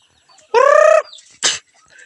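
A chicken in a backyard coop gives one loud, drawn-out harmonic squawk lasting about half a second, followed by a short noisy burst, close by against otherwise quiet surroundings.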